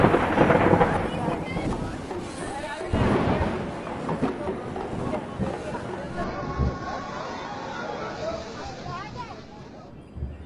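Heavy monsoon downpour and thunderstorm over the Kedarnath valley in June 2013: dense, roaring rain throughout, broken by loud rolling thunder cracks near the start and around three seconds, then a steady wash of rain.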